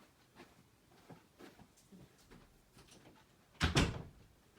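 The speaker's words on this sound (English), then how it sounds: "I'm going to shut the door" A door is shut in a room, giving one loud, close thump near the end after several seconds of faint, scattered handling noises.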